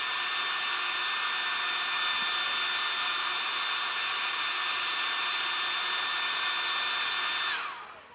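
A heat gun blows hot air to cure paint on a custom crankbait fishing lure, a steady loud whirring fan roar with a high whine held for about seven seconds before the motor winds down and shuts off.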